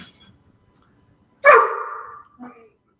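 A single dog bark or yelp bursts out loud and close, trailing into a short whine, followed by a brief softer yip; faint background chatter surrounds it during a hockey watch party.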